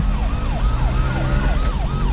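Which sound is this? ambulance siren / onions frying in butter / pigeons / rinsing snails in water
ambulance siren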